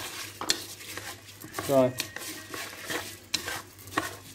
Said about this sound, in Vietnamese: Đây các bạn quấy đều cho nó ra màu nha